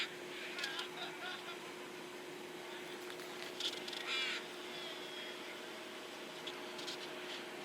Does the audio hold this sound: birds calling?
yes